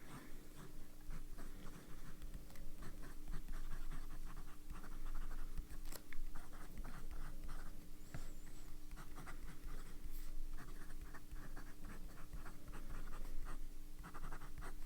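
A fountain pen filled with scented J. Herbin Rouge Rose ink scratches faintly and steadily across paper, with soft continuous strokes and small ticks, heard close up with no talking.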